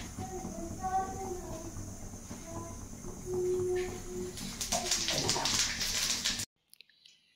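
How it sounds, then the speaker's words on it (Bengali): Whole cumin seeds and chopped onion hit hot mustard oil and a loud, close sizzle bursts up for about two seconds after quieter kitchen background, then the sound cuts to silence. "গরম তেলের মধ্যে জিরে, গোটা জিরে আর পেঁয়াজ কুচো এটাই ফোড়নে দিয়ে নিলাম"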